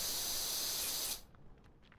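Pressure washer spraying in Powerwash Simulator, a loud steady hissing jet that cuts off abruptly after about a second, leaving faint quiet sounds.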